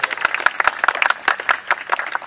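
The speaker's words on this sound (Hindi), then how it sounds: "जोरदार तालियों से उनका स्वागत करें" Scattered hand claps from an audience welcoming a guest at a public event, a modest burst of uneven clapping heard close and fairly loud.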